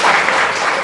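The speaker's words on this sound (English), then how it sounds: "Let's clap very, very loudly first for the wonderful interactive session." An audience in a conference session room claps loudly and continuously after an interactive session, many hands blending into a dense, even wash of applause.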